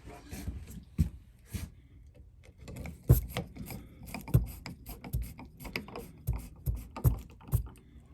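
Screws with a dab of wood glue being driven into thin RV wall paneling, giving a series of close, sharp clicks and ratcheting knocks with brief pauses between bursts.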